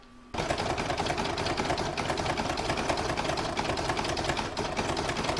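Domestic sewing machine stitching a round of gold thread on a fabric coaster, a steady rapid mechanical whirr that kicks in after a brief quiet start and runs continuously and close up.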